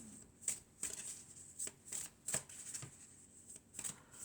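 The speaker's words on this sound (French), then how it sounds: "on va prendre quelques cartes de l'oracle de la Triade" Oracle cards being shuffled and drawn, with a series of soft, crisp riffling bursts at irregular intervals, close and quiet, with no talk.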